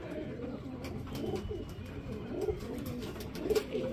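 Domestic pigeons bought from Karachi netting coo softly and repeatedly at close range, with scattered bird sounds and rustling in the background and no talking.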